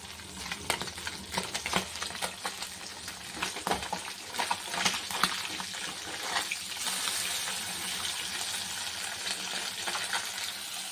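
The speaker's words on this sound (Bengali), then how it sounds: "এরকম মাছ ভাজাটা বসিয়ে দিয়েছি" Small morola fish fry in oil in a pan with a continuous crackling sizzle. Scrapes and stirring clatter run through the first half.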